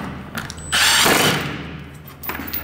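Screws being backed out of the old latch catch on a sliding patio door give a ratcheting, mechanical whir that swells loudly for about a second, then trails into fainter clicks and handling noise.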